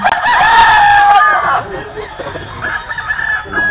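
A Red Kelso gamecock crows loudly and close, one long drawn-out call lasting over a second, followed by quieter clucks and background murmur in a busy rooster market.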